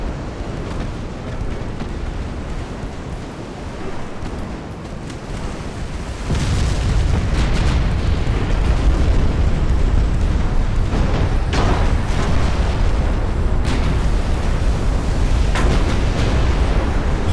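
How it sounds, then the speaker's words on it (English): Heavy explosions roll through a video game naval battle at Port Arthur, a quieter rumble giving way to a loud sustained roar with repeated booming blasts from broadside fire as ships are hit and sink. "Big explosions."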